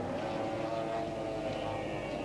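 A racing powerboat engine drones steadily at a distance in a 1980 race, a continuous low buzzing roar with no breaks.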